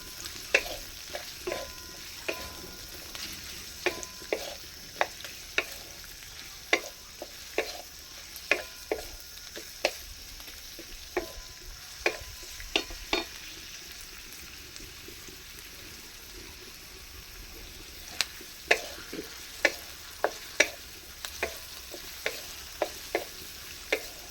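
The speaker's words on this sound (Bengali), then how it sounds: "পেঁয়াজটা দিয়ে দিলাম একটু ভেজে নেবো পেঁয়াজটা" Chopped onions frying in a little oil for a healthy breakfast, a steady soft sizzle with frequent sharp clicks and scrapes of stirring throughout, close and moderately quiet.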